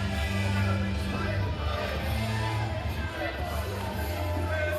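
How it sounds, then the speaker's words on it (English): Steady roar of a crowd at a ball hockey game in an arena, continuous and dense under a commentator's voice. "Listen to that crowd."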